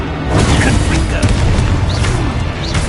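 A Confringo fire-blast spell erupts in Hogwarts Legacy amid a busy, continuous wash of game noise, a loud booming burst layered with crackling effects and a voice talking over it.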